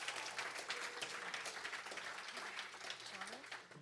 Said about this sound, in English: how about a hand for all the sound people working tonight?